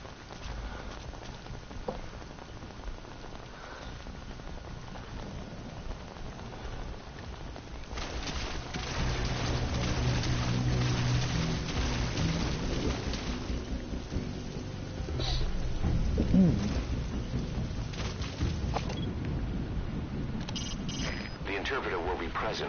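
Steady rainfall pours in Metal Gear Solid V, a continuous patter that grows heavier midway, with a low rumble and scattered louder splashes.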